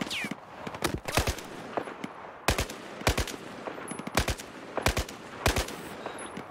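Gunfire in the video game Battlefield 4: bursts of automatic fire and single shots in irregular volleys across the clip, loud and close, with no talking.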